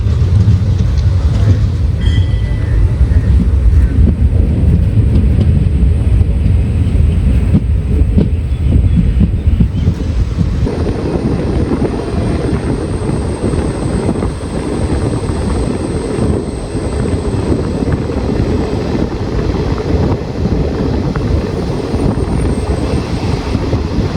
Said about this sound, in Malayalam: രാവിലെ സമയത്ത് നാഗർകോവിലിൽ നിന്ന് തിരുവനന്തപുരം ഭാഗത്തേക്ക് പോകുന്ന ട്രെയിൻ